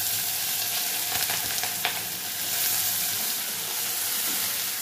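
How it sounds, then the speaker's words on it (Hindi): Pieces of taro (arbi) frying in hot oil, a dense, steady bubbling sizzle up close with a few faint clinks of a utensil. "तेल गरम होगा तब अरवी हम तेल में डाल के फ्राई करेंगे"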